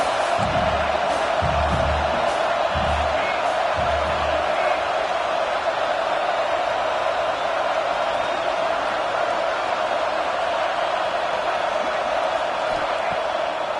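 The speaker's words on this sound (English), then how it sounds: "This crowd bringing the energy and noise early." Home football stadium crowd at a college game against LSU, a steady roaring wall of cheering and noise throughout, with a few low thumps early on under the constant din.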